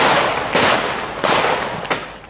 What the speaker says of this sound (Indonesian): Tembakan gas air mata dan peluru karet pun dilepaskan berkali-kali.